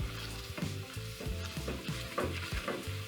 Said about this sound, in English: And this is where we're making a roux.